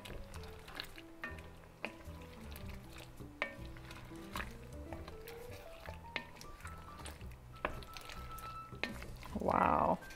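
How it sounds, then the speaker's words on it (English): Mushroom bourguignon in a pot with liquid aminos added is stirred with a spoon, giving soft bubbling and liquid sloshing, occasional clinks against the pot, and a brief louder burst near the end. "Stir it up a bit."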